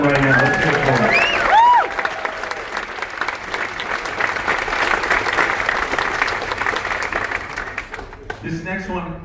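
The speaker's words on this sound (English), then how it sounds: "Can we please give a big cheer and honor all of them right now?" Ship's audience on the Royal Caribbean Voyager of the Seas cheering and applauding medal winners at a hero's tribute, dense sustained clapping with whistles and shouts early on, a voice talking over it, then fading near the end.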